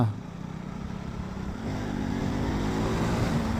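A motorcycle engine hums steadily nearby on a ride in the Kolli Hills, a low continuous drone that rises slightly in level partway through, with no talking.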